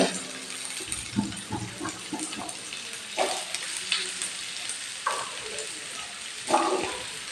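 Pieces of baby corn drop into hot oil and fry, a steady hiss broken by splashy bursts as more pieces go in, with a speaking voice over the sizzle.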